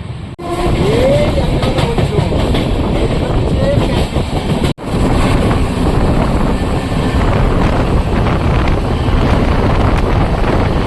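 A Kolkata to Mathura Junction Express moves slowly as it nears Panagarh station in the rain, making a loud, close, continuous rumble with heavy wind buffeting and a sharp dropout partway through.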